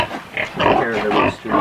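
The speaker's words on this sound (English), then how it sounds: "These are the pigs." Pigs oink and grunt on a farm, several close-up overlapping calls forming a continuous loud snuffling chorus.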